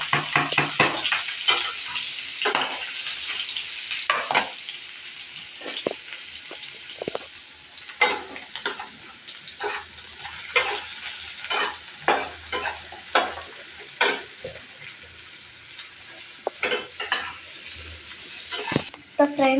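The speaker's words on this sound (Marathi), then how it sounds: "आणि आता हे जिरे आपण ह्याच्यात टाकणार आहे तेलामध्ये." Cumin seeds, chopped onion and green chili fry in hot oil for poha, a steady crackling sizzle with repeated scraping stirs and clinks, fairly close, with no talking.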